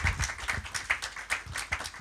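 A short burst of steady, rhythmic hand clapping from the audience at a book launch, fairly close.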